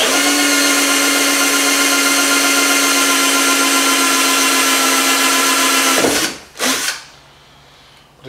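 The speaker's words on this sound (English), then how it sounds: "It's kind of not a big fan of drilling holes in the car." Power drill boring holes into the body panel of a Ford Mondeo, a loud, steady high whine running for about six seconds, then stopping, with one brief burst of drilling before quiet.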